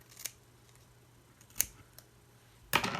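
Scissors trim a strip of doodle tape down narrower, giving three crisp, close snips spaced apart in an otherwise quiet room, the last one longest.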